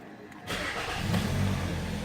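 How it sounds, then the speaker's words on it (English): A car engine cranks and catches on the start, then settles into a steady low running rumble that stays loud and close to the end, with no talk over it. "I'm gonna go ahead and start the car"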